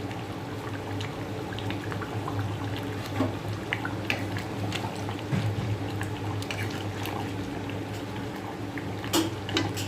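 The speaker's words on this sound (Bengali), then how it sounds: "ঝোল ফুটছে টকবক করে" A pot of chicken curry broth bubbles and boils steadily, a dense close churning with scattered small pops and occasional brighter bursts, no one talking.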